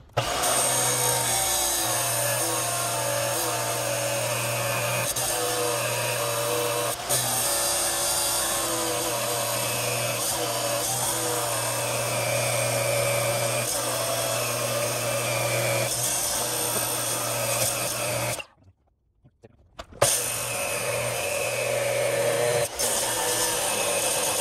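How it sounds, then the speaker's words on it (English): A power saw not made for metal cuts metal parts for a lawn kart project, a loud continuous high-pitched grinding whine with a steady hum that stops briefly before resuming. "I am well aware that this saw is not meant for cutting metal"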